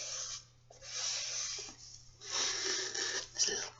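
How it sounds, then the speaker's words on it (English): Fingertips tap and rub across a coarse-edged art supply, producing close, soft scratchy friction in a few short strokes with brief pauses, quiet and intimate. "You tap it, run your fingers over it."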